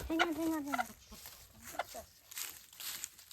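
A stressed hen lets out a run of agitated, rising clucks and squawks close by, in a few bursts with brief pauses between them.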